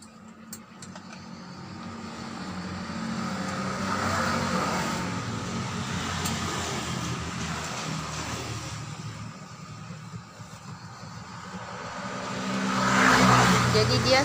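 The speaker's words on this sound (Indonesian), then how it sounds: "Maaf guys, kita lagi di luar jadi banyak suara kendaraan" Outdoor street traffic with vehicles passing by, a swelling and fading engine rumble that rises loudest near the end, while people talk over it.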